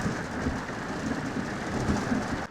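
Steady monsoon rain falling as a constant, fairly quiet hiss, with a faint low rumble beneath and no voices.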